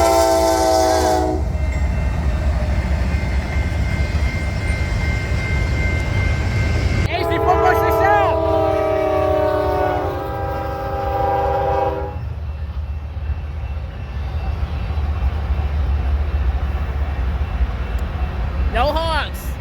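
An AC44 freight locomotive rumbles past loud and close, with the long train's steady roar, a horn blast at the start, another mid-pass, and a brief one near the end, plus wheel clatter throughout.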